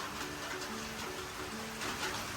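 Faint, continuous rain hiss with a soft patter, fairly distant and low, with a faint steady hum underneath.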